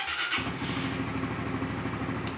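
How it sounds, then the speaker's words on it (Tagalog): Suzuki Raider Fi 150 underbone motorcycle push-start: a short ignition crank catches and the engine settles into a steady, close, rhythmic idle putter. "medyo may ignition sound pa siya kapag ini-start"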